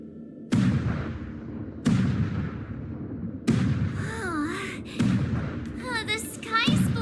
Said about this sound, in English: The Sky Splitter's gun salute is really loud.